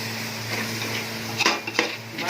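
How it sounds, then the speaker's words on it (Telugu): A metal lid set onto a cooking pot of tomato rice, two sharp clinks close together against a steady kitchen hum. "మూత పెడదాం"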